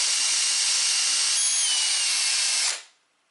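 A power drill bores into a wall with a loud, steady, high whine for almost three seconds, shifts pitch slightly midway, then spins down to silence.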